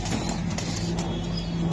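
Racing pigeons at a pigeon club coo low and steadily with brief wing flaps, close by over a constant hum of background noise.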